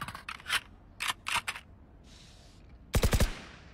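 Weapon reloading in a shooter video game: a run of quick mechanical clicks and clacks, a brief soft slide, then a tight burst of sharp metallic snaps at the end, close and crisp with no voice.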